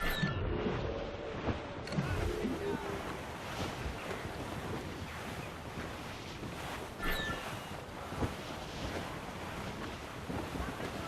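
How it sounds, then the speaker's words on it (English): Stormy wind at sea in Assassin's Creed Rogue roars over crashing waves and creaking sailing-ship noise, steady and loud with gusty swells, and no voices. "Quite a rough squall, Captain."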